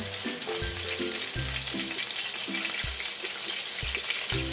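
Garlic sautéing in reduced cooking oil in the pan used for frying chicken, a steady close sizzle with intermittent low thumps of a spatula stirring, no talking.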